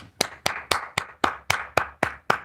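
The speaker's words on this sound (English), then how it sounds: "Everybody that just hit the like button, this clap is for you." Nine sharp hand claps at a steady beat, each crisp and close, spaced about a quarter second apart with brief silence between them.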